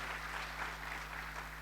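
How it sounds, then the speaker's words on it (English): A church congregation claps hands steadily together during a Sunday worship service in Pune, a dense, continuous wash of applause filling the room with no speech over it. "Can you clap your hands टाळ्या वाजूया unto Jesus?"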